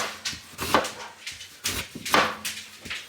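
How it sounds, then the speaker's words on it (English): Knife cutting slender sweet potatoes into quarter-inch slices on a board, a series of sharp close chops landing at an uneven pace with quiet gaps between strokes. "we're gonna cut them a quarter-inch slices"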